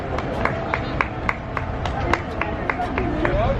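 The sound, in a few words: Disney cast members cheering runners at a 5K race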